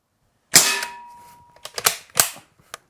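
Umarex Ruger 10/22 CO2 pellet rifle fired at a target: one sharp, loud crack with a ringing tail, then a quick cluster of three lighter snaps and a final faint click, with no voices.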